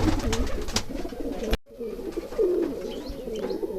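Allahabadi kaldum pigeons coo in a loft, giving several low, throaty coos close by, with a short break partway through and faint chirps and background murmuring.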